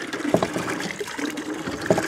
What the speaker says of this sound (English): you can see the water coming out of this hand pump